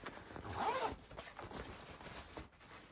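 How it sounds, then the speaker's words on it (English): Zipper pulled open along expandable packing cubes being packed into a LEVEL8 suitcase, a close rasping run that swells and then continues more softly in short scratchy bursts. "Oh, that's the zip for them. They've got this other zip here that opens up"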